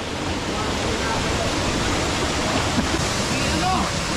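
A river waterfall rushes with a steady, dense roar of falling water that stays loud and even throughout, with no breaks or changes.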